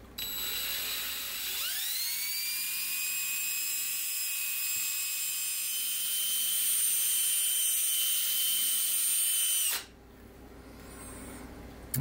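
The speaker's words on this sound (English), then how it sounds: "I'm just gonna put it in my cordless drill" A cordless drill spins up and holds a steady, loud high-pitched whine for several seconds while a rod end is deburred on a model ship, then cuts off abruptly, leaving a quieter background.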